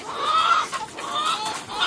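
Farm chickens cluck close by while feeding, several hens giving overlapping bursts of throaty clucks and calls in a busy, continuous chatter without talking.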